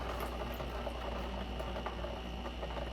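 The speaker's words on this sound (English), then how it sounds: "We've got some water kind of draining down in there." Water trickles and gurgles steadily into a water filter housing during a filter change, a continuous close-up draining sound over a low mechanical hum.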